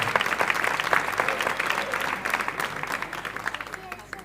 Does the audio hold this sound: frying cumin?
no